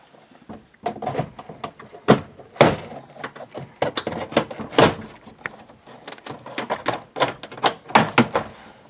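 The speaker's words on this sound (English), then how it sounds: "Always hate taking door panels off. Always feels like you're breaking them." Plastic door panel clips being pried off a 2007-2013 GM truck door, a series of sharp irregular snaps and clicks with rustling handling noise in between.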